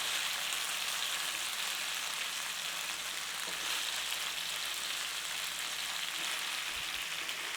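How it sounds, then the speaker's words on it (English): Homemade paneer frying in a pan to build a crust, a steady, even hiss of sizzling oil that stays close and continuous without pause. "So just fry it in the pan, turn it over, get a crust on it"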